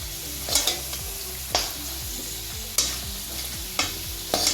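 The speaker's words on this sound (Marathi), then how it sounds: "काही मसाले कोरडे परतायचे" Whole spices, including badal phool, dry-roast in a pan for homemade masala, with about six sharp stirring scrapes at irregular intervals over a faint crackle, close and with no talk.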